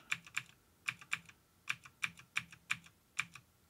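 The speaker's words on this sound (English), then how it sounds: "I hit the W key and I use the arrow keys to move on to other images." Close, crisp clicks of keys pressed on a computer keyboard, about a dozen distinct taps arriving in irregular pairs and singles over a quiet background with no talking.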